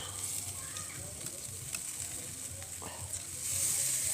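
Marinated meat sizzling and charring over a fast-burning wood fire on a barbecue, a steady close crackling hiss throughout that swells louder near the end.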